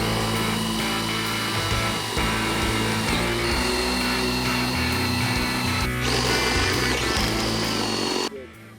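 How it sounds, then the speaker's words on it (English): A power drill with a hole saw grinds steadily through an F-150 roof, its whine wavering with pressure, then cuts off abruptly at the end. "I'll shut up and we'll start drilling."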